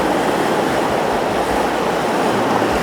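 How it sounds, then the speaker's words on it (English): A fast stream rushes through the foreground of a night scene in Zion, making a loud, constant broadband roar with no voices. "We've got the water flow rushing through this foreground and it's coming in super fast."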